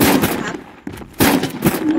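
Gunfire in Roblox Dinosaur Hunter: loud, close bursts of rapid shots forming two dense volleys separated by a brief lull, with no talking over them.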